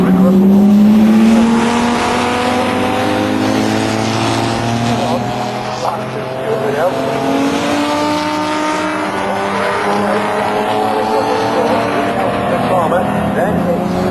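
Jaguar XJS race cars in a Toyo Tyres XJS Championship race at Snetterton roar past as engines rise and fall through the gears, loud and continuous, with a commentator talking over the racing.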